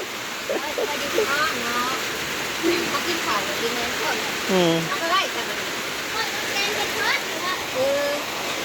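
Heavy storm rain pours down in a steady, dense hiss that does not let up, while people talk softly beneath it.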